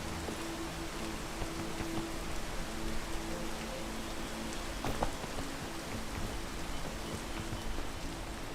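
Rain falls in the video game Peak, a steady dense hiss with scattered droplet ticks running throughout at an even level, with no voices.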